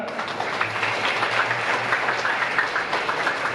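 A Christmas Eve Mass congregation claps for the church ministers, a dense, fairly loud burst of applause that fills the space evenly for a few seconds.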